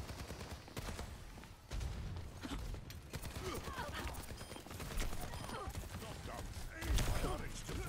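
Turret gunfire rattles in the Overwatch 2 video game as rapid bursts of shots mixed with busy game effects, while a player talks over the action.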